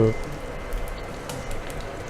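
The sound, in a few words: fish frying in a pan with marinade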